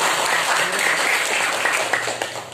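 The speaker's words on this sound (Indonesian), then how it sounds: "tepuk tangan untuk kelompoknya Sidil" An audience applauds a presenting group at a school training session. The clapping is steady and dense for about two seconds and then thins out at the end.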